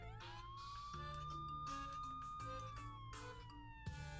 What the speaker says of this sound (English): Within a few seconds, a police siren is playing from its speakers.